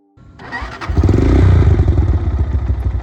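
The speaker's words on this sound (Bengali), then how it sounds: "সো নিউট্রাল অবস্থায় থাকায় আমি এখন সেলফ স্টার্ট বাটনটা ক্লিক করতেছি" A used Taro GP 1 motorcycle in neutral starts with its self-start button: a brief whir of the starter, then the engine catches and settles into a loud, close, throbbing idle that pulses steadily to the end.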